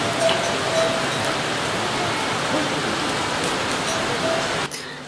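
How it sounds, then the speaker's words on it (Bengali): Steady rain falls on the Kedarnath trek in October, a dense, even hiss of drops that holds at one level throughout, then thins abruptly near the end. "অবশেষে বৃষ্টিও নেমে গিয়েছে"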